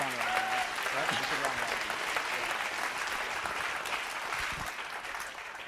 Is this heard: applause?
yes